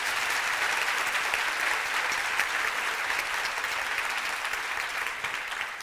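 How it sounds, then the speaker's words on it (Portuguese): An audience at a literary festival book talk gives a sustained round of applause, even and continuous, heard from within the hall at moderate level. "Eu convido agora a Helen, queria pedir uma salva de palmas a ela e..."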